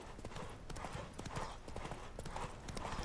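Hooves of the horse Roach clip-clop at a steady walking rhythm on the ground in the video game Witcher 3, close and continuous for the whole stretch.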